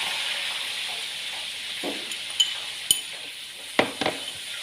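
Instant noodle omelette mixture with seasoning packet, chili powder and salt being stirred in a bowl, giving a soft continuous scraping with a few sharp clinks of utensil against the dish, close and fairly quiet.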